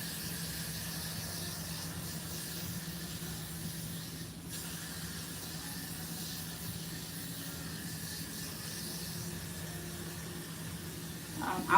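Spray bottle misting water onto hair while sisterlocks are being retwisted: a soft, steady hiss that runs almost continuously, quiet and close, with a faint thump at the very end.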